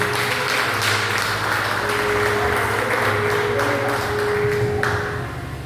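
A church congregation applauding during a sermon, a dense and steady wash of many hands clapping at close range, carried over a sustained musical tone, fading slightly at the very end.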